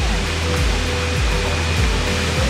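A waterfall gives a steady, loud rush of falling water, a continuous broad roar with no break, at the first tier of Erawan Falls in Thailand, with tourists nearby.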